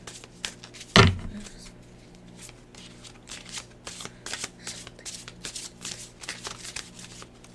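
Tarot cards shuffled by hand during a 2025 reading, with one loud riffle burst near the start followed by a steady run of soft, repeated card flicks and taps at close range.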